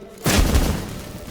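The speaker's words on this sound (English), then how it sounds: "Get ready for some magic fireworks." Magic fireworks set off by incense in The Witcher 3 video game, a single sharp booming burst that decays into a short rumbling tail, loud and close with no talking.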